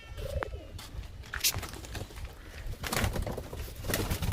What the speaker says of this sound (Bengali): বন্ধুরা দেখুন একই জেনারেশনের পায়রা